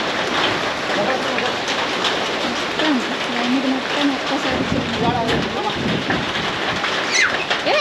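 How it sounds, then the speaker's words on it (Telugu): Heavy rain driven by strong gusting wind during a storm, loud and continuous, with a voice talking over it. "ఇప్పుడే వర్షం కూడా స్టార్ట్ అయిపోయింది గాలి విమానం అయితే ఫుల్ కొడుతుంది"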